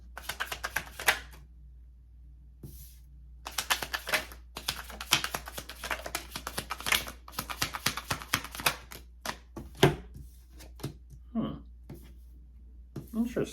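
Tarot cards are taken out and handled at close range, a busy run of crisp clicks, taps and snaps as the deck is sorted, with a person talking between the bursts.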